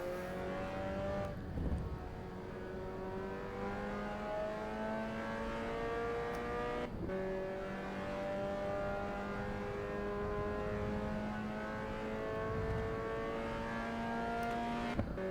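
A Mazda MX-5 ND engine in the racing game Assetto Corsa EVO, during an online race at Oulton Park's Fosters layout, climbs through the revs in smooth, buzzing sweeps. Its pitch drops sharply at each gear change, with other cars faint behind it.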